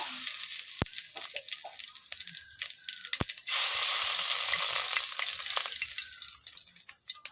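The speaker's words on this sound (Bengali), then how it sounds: "আমি প্রথমে দিয়ে দিচ্ছি পাঁচফোড়ন।" Panch phoron spices hit hot oil for a bhindi masala, a steady bright sizzle that swells partway through, with a few sharp ticks and clicks from the pan and no voices.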